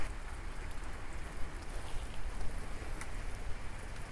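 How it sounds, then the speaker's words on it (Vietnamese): Steady rain falls at a melaleuca grove, a dense, even patter with no voices, holding at a constant moderate level throughout. "Trời mưa luôn ha."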